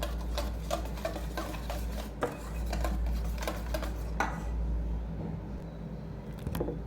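A spoon taps and scrapes against a bowl while egg and milk powder batter is beaten, quick irregular clinks and stirring ticks repeating close up and fairly quiet.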